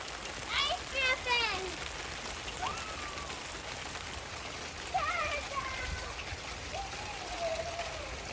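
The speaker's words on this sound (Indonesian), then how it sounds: "Tapi ini sudah beberapa hari hujan" Rain patters softly and steadily on a forest after several days of wet weather, with faint bird chirps rising above the hiss now and then.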